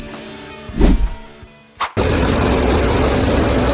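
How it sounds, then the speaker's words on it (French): A German Fendt 778 Vario tractor's engine hums with a droning tone, then a quick whoosh leads into a loud, steady roar that fills the rest of the stretch, with no voices. "Nous observons ici un Fendt 778 Valio, un tracteur allemand réputé pour sa technologie et son efficacité"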